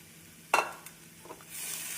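Chow chow kootu with grated coconut being stirred in a pan, a single clear scrape near the start followed by a few softer clinks and a faint low sizzle, with no voices.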